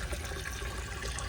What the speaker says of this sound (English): Now I can take this out and help it fill the tank faster.